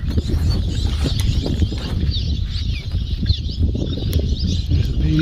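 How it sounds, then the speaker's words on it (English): A bunch of swallows fly close by on a trail, giving a rapid fluttering of wings and scattered high twittering over a steady low rumble, continuous and fairly loud. "A bunch of swallows there, or whatever they are."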